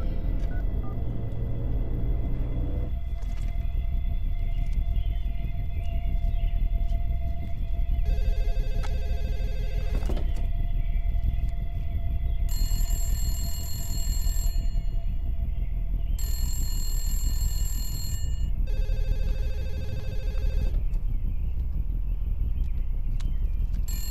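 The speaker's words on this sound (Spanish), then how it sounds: "nadie puede contestar el teléfono" A telephone rings again and again unanswered, in four bursts of electronic ringing over a steady low rumble, with no one speaking.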